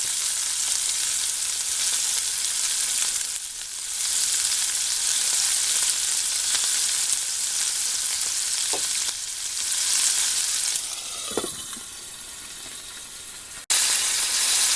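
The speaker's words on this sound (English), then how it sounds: "So I'm going to fry gently for a couple of minutes on each side" Steak frying gently in dripping in a frying pan, a continuous, fairly loud hiss and crackle with a brief clatter near the end.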